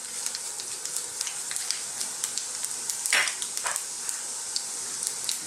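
Dried red chillies with fennel and cumin seeds sizzling steadily in hot oil for an Indian fish fry masala, a continuous close crackle with brief louder spits and a light stir partway through.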